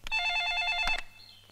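A telephone ringback tone sounds once, a steady electronic ring lasting about a second, then stops with faint clicks after.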